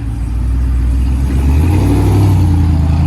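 A deep, heavy Ram pickup truck 6.4-litre V8 engine rumbles close by, its low growl swelling as it revs up and holds steady.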